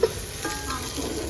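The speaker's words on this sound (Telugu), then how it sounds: "chicken curry ఉడుతుందండి" Chicken curry with tomato and carrot frying in a pan, a steady soft sizzle with faint stirring scrapes, close and fairly quiet, no voices.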